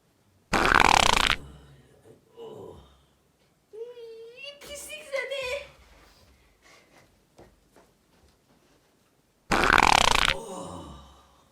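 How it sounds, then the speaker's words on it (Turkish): Two loud, sharp fart noises, one near the start and one near the end, framed by a child's grunts and squeaky vocal noises in between as part of a fart prank. "ağzın içine ne osurdum be"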